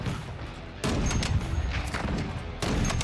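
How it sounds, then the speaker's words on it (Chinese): Sniper rifle fire in the video game Call of Duty: Modern Warfare II, with two heavy booming shots a couple of seconds apart over dense battle noise, fairly loud and without speech. "小健不错，也给这个观众示范了狙击枪"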